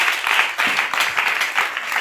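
A church congregation claps together in a steady, dense burst of applause that fills the room, loud and close, with no talk over it.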